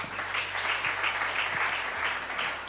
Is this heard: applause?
yes